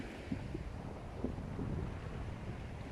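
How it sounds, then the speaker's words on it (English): Wind blusters across a microphone on the shingle beach at Brook Chine, Isle of Wight, a soft, steady low rumble with faint gusts and no voices. "there's quite a bit of wind"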